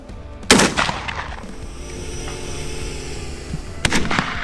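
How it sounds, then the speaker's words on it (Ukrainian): Two sharp, loud smoothbore shotgun blasts at military drone-shooting practice, a few seconds apart, each echoing briefly outdoors with a quiet pause between them. "будемо працювати, відпрацьовувати стрільбу з гладкоствольної рушниці."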